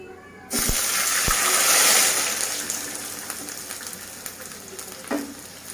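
A loud sizzle bursts out as a paste of mustard, green chilli and poppy seed hits hot oil, then settles into a steady frying crackle with a couple of clinks from stirring.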